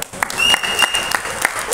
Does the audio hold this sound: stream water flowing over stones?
no